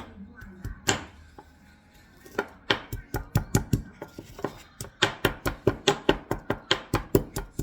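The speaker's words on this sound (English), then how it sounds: "There's the garlic and the herbs, and I'm gonna smash this" Garlic and herbs are smashed in a bowl, a long run of sharp, close, rhythmic thuds that speed up into a steady pounding beat, with a few scrapes between strikes.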